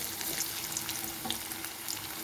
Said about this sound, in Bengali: এইভাবে আমি ভেজে নেব